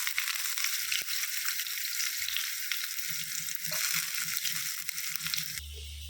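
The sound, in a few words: mustard seeds and shallots frying in coconut oil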